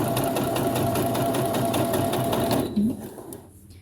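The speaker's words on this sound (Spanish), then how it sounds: "Hasta ahí puedo correr mi prensa tela, así para hacer en el borde mismo la costura." A Brother CS6000XL sewing machine stitches along the edge of a fabric piece with a loud, steady, fast mechanical hum and rattle, then stops, leaving a short quieter tail.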